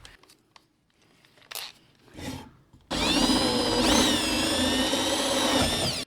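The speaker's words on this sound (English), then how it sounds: "Basically working on a countersink there." A power drill countersinks a bolt hole in a wooden game table, starting with faint scraping and handling noises, then a loud, steady whirring grind of the bit cutting wood for the last three seconds.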